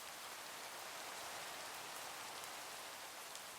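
Steady rain falls in the Minecraft TerraFirmaGreg modpack, a dense even hiss of droplets that holds at constant loudness with no voices, quiet overall.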